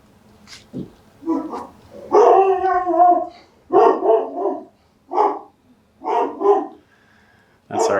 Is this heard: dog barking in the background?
yes